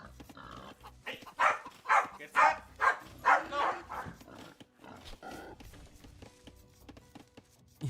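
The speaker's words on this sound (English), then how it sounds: "why do I have a Corgi barking at me?" A Corgi lets out a burst of five or six loud, hoarse barks in quick succession, followed by a few quieter yips and grumbles that fade out.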